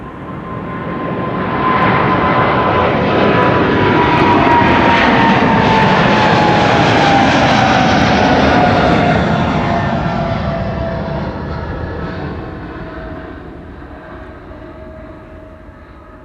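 A wide-body airliner passes at Amsterdam Schiphol on a sunny Sunday. Its engines give a loud, broad jet roar that builds, holds steady and then slowly fades as the aircraft moves away, with a faint descending whine running through it.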